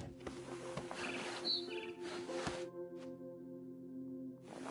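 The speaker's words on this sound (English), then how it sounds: "I heard chirping outside my window. It was a barn swallow going back to her nest" A few high, thin barn swallow chirps and tweets in a video game ring out over a low steady hum and soft musical tones, faint and brief.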